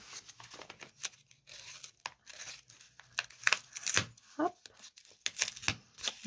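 A mailed envelope is torn open by hand in quick ripping bursts mixed with paper crinkling, loud and close, with a person talking in between the tears.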